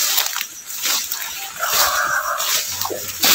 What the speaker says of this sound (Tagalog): Ba't may aso dyan?